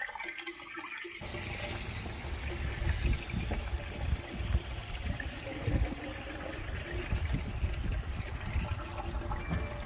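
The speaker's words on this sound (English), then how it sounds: "It's running, close your valve." Water rushing steadily through a hose while flushing an RV holding tank, a continuous gurgling flow that begins abruptly and stays loud and turbulent throughout.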